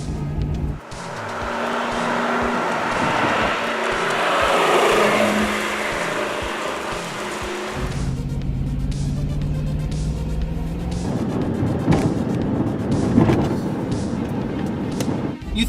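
A 1985 Lamborghini Jalpa engine roars at high revs, rising and sustained, then shifts to a rougher, throatier note with loud revving and some tire noise.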